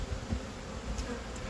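Honeybees buzz steadily and faintly around an open hive during a June inspection, a soft continuous drone close to the microphone with no talking.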